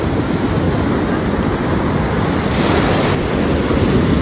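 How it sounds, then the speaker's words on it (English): Ocean waves breaking on a beach at Jacksonville, a loud, steady rushing surf wash with wind, close and continuous. "Ooh, that's a big ass wave."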